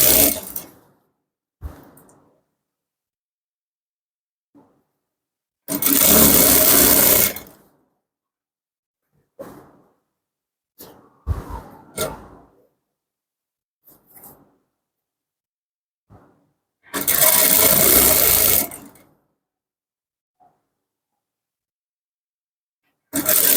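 A sewing machine stitches a pair of men's shorts in two short, steady bursts of whirring, separated by quiet pauses with light handling and fabric sounds.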